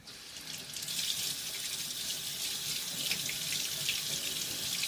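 Okra rinsed under a running kitchen tap, a steady hiss of water splashing into the sink that holds evenly for several seconds, close and fairly loud with no talking.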